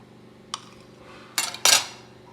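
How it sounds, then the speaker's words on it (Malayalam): A knife trims the crusts off slices of bread for a bread roll, heard as a soft tap followed by two louder scraping cuts near the end, close up and with no talk. "ഇത് ഓരോന്ന് എടുത്തിട്ട് നമുക്ക് ഈ സൈഡ് ഇങ്ങനെ കട്ട് ചെയ്ത് മാറ്റണം."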